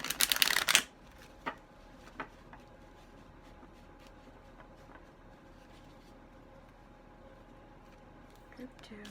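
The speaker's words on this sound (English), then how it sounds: "I am legit shuffling with my eyes closed right now." A tarot card deck is riffled in one quick, close burst of shuffling, followed by near silence with faint room noise and a couple of soft taps.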